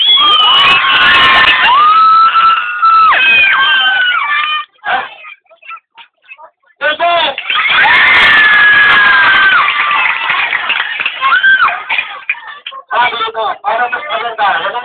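A crowd of children at a Christmas giving event cheers, shouts and claps loudly and continuously, with a brief lull midway before the noisy cheering swells again.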